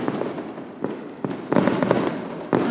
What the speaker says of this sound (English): Yep, fireworks!